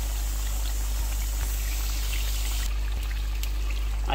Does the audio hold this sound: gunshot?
no